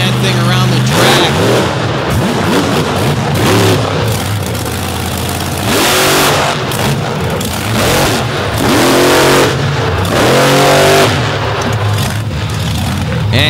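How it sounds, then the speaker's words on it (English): A monster truck at a Brooksville monster truck event roars around the track flat out, its engine loud and close with repeated surges and revs over crowd noise and an announcer talking. "The engine might be getting hot as he is flat-footing that thing around the track."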